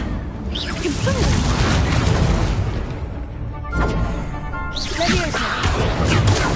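The Confringo blasting spell in a wizard video game, heard as a loud whooshing burst followed by booming impacts amid dense combat noise, repeated a few seconds apart.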